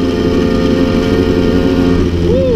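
A 1962 Paloma Vésuvio cyclosport moped accelerates up close, its small engine holding a loud, steady buzzing drone that climbs slightly in pitch, with no voices.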